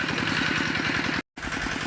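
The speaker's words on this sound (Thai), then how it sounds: "พี่น้องจะได้ยินเสียงรถไถเด้อ" A tractor plowing a rice field runs with a steady, loud, chugging engine drone and regular rhythmic pulses, cutting out for a split second before resuming.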